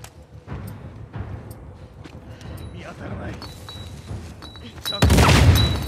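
Gunfire in The Last of Us Part II: a loud, dense burst of shots erupts near the end after quieter game ambience with scattered clicks and thuds, close and sharply louder than what came before.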